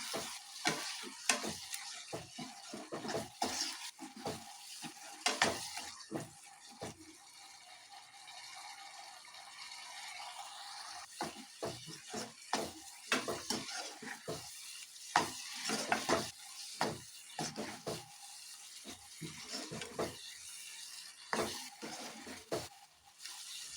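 A spoon stirs hotel-style mushroom masala frying in a pan: repeated scraping strokes come in bursts over a soft, continuous sizzle, close and clear, with no talking.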